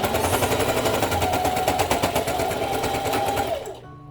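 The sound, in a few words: domestic sewing machine sewing lining and fusible fleece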